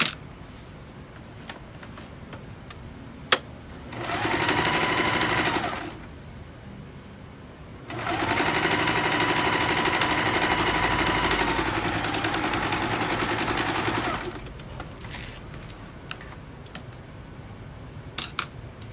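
A sewing machine runs safety-seam stitches along the sides of a fabric necessaire, in two fast, steady mechanical bursts, a short one and then a longer one, with quiet pauses between and no talking.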